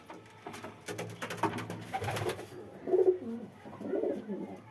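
Pigeons at a home loft coo in soft, repeated low throaty calls, with a couple of louder coos near the end, close by amid faint background noise.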